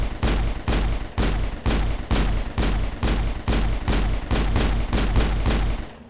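Rapid gunfire aimed at a distress beacon in the video game Mass Effect: about a dozen loud, evenly spaced shots over six seconds, each a sharp broadband burst, with no talking.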